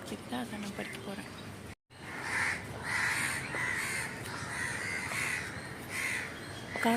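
Crow chicks in a nest caw in a series of repeated, fairly loud calls spaced through the recording, with speech at times underneath.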